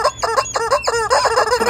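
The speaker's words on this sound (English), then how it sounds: "Well, Leah, it's my rubber chicken friend." A rubber chicken toy squeaks in a rapid run of shrill, honking squawks, about five bursts in under two seconds, loud and close with nothing else heard.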